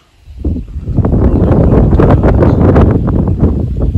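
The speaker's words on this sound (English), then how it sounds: "I can't help the wind, so y'all just gotta bear with me" Steady wind buffets the microphone on a hiking trail beside a marsh pond in a wildlife refuge, a loud continuous roar that rises after a quiet start and holds with gusty fluctuations throughout.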